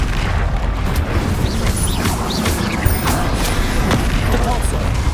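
Incendio, the fire spell in Hogwarts Legacy, cast amid dense combat noise: booming blasts and bursts over a constant loud rumble, with a voice speaking in the mix.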